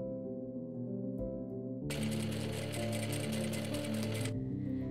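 A sewing machine top-stitches bias tape along the edge of a bodice, starting after a quiet moment with a rapid steady whir and needle chatter, then stopping abruptly.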